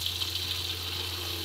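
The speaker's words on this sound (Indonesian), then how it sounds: "Kita masukkan santan" Coconut milk poured into a pan of spicy salted fish: a steady, soft liquid gush with a low background hum, faint and without speech.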